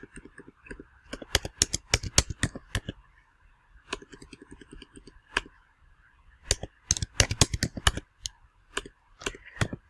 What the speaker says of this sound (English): these keys sticking are killing me.